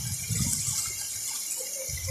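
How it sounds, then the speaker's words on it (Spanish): Rushing, splashing water from a car driving through a flooded street where a ravine has overflowed in La Serena, a steady broadband wash with a low rumble at the start and end. "Como tira el agua, ¿lo viste?"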